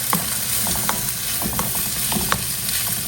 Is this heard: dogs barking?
no